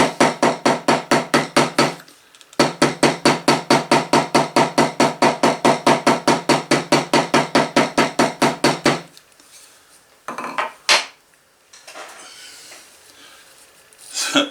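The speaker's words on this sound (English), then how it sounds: "So let's get this, hammer that down." Rapid, steady hammer blows strike a leather inside-waistband holster in two long runs with a short pause between, followed by a few scattered knocks and handling sounds.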